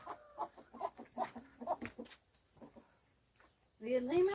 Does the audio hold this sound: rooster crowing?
yes